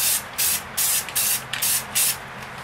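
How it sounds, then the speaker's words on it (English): White spray paint hissing from an aerosol can in several short bursts with brief pauses between them, close and loud. "So the first thing we're going to do is spray some white right here in the center"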